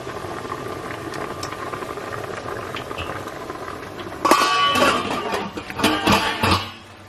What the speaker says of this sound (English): Let me boil it a little more.